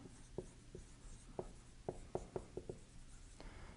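Short, scratchy strokes of writing on a board during a physics lecture. The marks come as sparse, irregular taps and squeaks and are faint against a quiet room.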